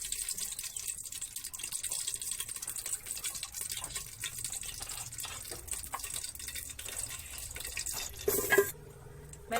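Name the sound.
bitter gourd pieces being washed with water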